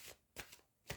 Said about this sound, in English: Just mix the cards easily.